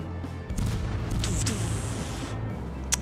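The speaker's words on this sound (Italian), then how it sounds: "Ora gli sparo le AP" Ship guns firing armor-piercing shells in the naval battle game World of Warships, heard as a dense, continuous barrage of booming cannon blasts with rumbling low end, loud and sustained for most of the stretch.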